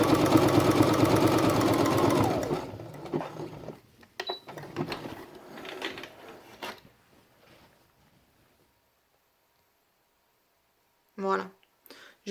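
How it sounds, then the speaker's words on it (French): A sewing machine runs steadily for about two seconds, sewing a tight zigzag stitch along the edge of felt, then falls quiet, with a few scattered handling noises afterward. "On vient donc faire notre point zigzag sur le bord et on fait un point assez serré."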